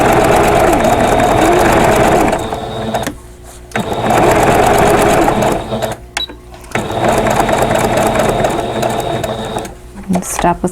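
A sewing machine quilting a pillow cover in the ditch, loud rapid needle chatter in long steady runs broken by short pauses, close up, with a person talking during the stops.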